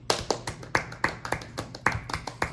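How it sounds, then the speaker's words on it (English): Brief, sparse clapping in a podcast studio, a handful of sharp, uneven claps in quick succession, close and dry, as if from just one or two people. "Can I get a round of applause?"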